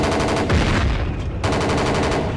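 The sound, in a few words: gunfire in video game Battlefield Yugoslavia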